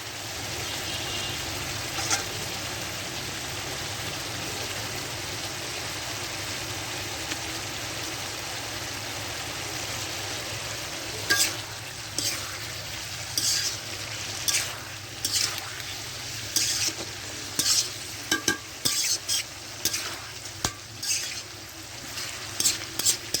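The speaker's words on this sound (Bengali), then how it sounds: "এবার ভেজে রাখা মাছগুলো দেবো" Fried fish going into a pan of hot oil with two bay leaves for a cabbage and fish curry: a low, steady sizzle, then a run of short clattering knocks and scrapes in the second half, with no talking.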